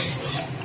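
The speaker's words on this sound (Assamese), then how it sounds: "এনেদৰে মই চুজিখিনি প্ৰথমতে ভাজি লৈছোঁ।" Semolina dry-roasting in a pan with no oil, for coconut semolina laddoos, stirred with a scraping, rasping sound that runs steadily and close through a brief moment, with no talk.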